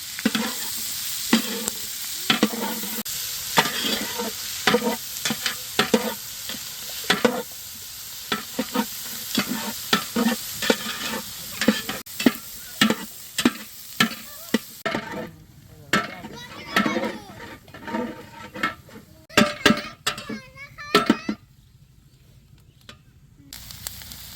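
Onion and chili frying in a pan over a village cooking fire, with a busy run of rapid spatula scrapes and clatters over a hissing sizzle, close and lively, and voices talking now and then.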